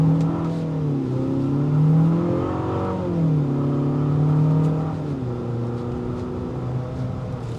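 A 2025 Infiniti QX60 Luxe's turbocharged engine pulls hard under acceleration, its rising drone shifting pitch a few times as gears change, heard from inside the cabin with no talking.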